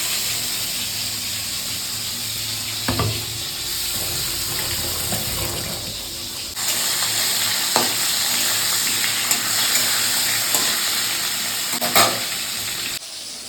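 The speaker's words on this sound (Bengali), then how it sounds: "মাছটা ভাজা হচ্ছে হোক ভাতটা ফুটছে ফুটুক" Fish pieces rubbed with salt and turmeric fry in hot oil with a steady, close sizzle that runs throughout, broken by occasional clanks and a brief water-like hiss, with no talking.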